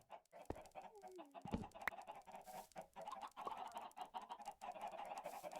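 Minecraft chickens in the Enigmatica 6 modpack clucking in short, repeated squawks, faint and scattered over a low background hum, with no talking.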